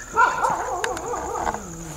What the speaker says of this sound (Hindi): कुत्ते बहुत ज्यादा भौंक रहे हैं